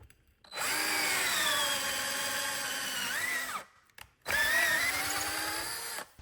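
A power drill bores with a 12-inch hardened steel self-feeding auger bit into wood: two sustained high motor whines, the first slowing and rising in pitch before cutting off, then a brief pause and a second steady run, loud and close.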